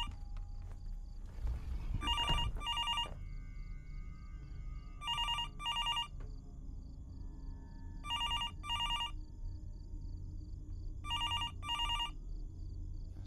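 A video game telephone rings in repeated paired electronic bursts, four cycles spaced evenly apart, steady and fairly clear over a low background rumble.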